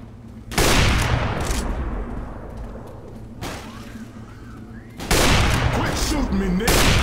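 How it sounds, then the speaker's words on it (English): Gunfire in the zombie shooter Left 4 Dead, two loud bursts of shooting near the start and again after five seconds, with quieter game noise between and voices talking over the action. "Quit shooting me, Nick."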